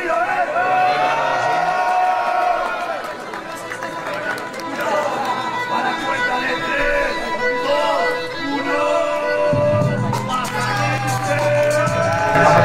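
A rap battle crowd shouts, whoops and cheers loudly and continuously, with a host egging them on over the din.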